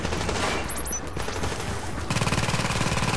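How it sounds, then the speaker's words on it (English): A deployed turret in a video game fires a rapid, continuous burst of automatic gunfire over a dense, noisy battle background, with the rattling shots growing sharper and more distinct near the end; no speech is heard. "So at this point, go ahead and deploy your turret."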